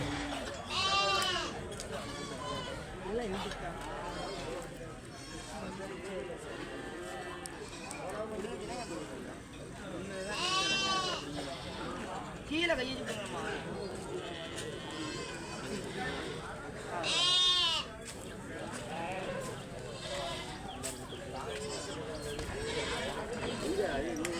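Sheep and goats bleat repeatedly at a goat market in Kadayam, many animals calling near and far in a busy crowd while people talk throughout.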